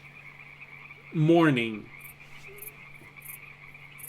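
A large frog croaks once in a loud, close, drawn-out call lasting under a second, set against a steady outdoor hum with faint insect-like chirps.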